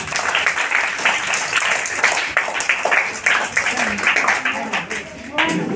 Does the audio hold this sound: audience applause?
yes